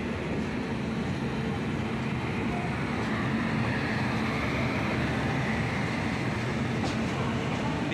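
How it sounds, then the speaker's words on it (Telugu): Diva–Ratnagiri passenger train passing close by, a steady broadband rumble and wheel roar that stays loud and continuous throughout without a break. "దీవా రత్నగిరి ప్యాసింజర్ ఇది."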